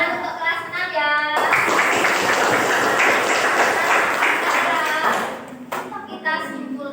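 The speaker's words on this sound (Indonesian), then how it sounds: "tepuk tangan untuk kelas 6 ya" A class of sixth-grade schoolchildren applauds together, a dense burst of clapping lasting several seconds that fades away as a teacher's voice resumes.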